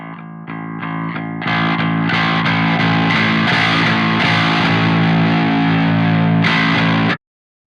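Parallax X high drive distortion on a bass, swept from 0 to 100%, starts with clean plucked notes and grows into a sustained, buzzing, gritty tone that fills out and then stops abruptly.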